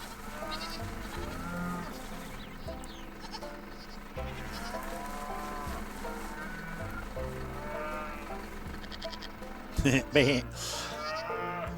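Several cows in a farm simulation video game moo in long, drawn-out calls over a steady background hum, with a few louder bleats and clatters near the end.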